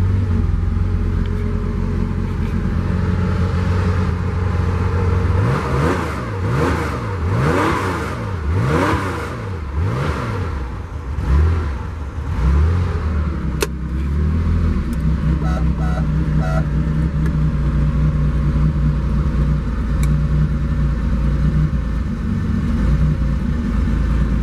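A 1974 Porsche 911 engine running nearby, holding a steady idle rumble, then blipped through several rising and falling revs in the middle before settling back to a smooth idle, with a few faint clicks near the end.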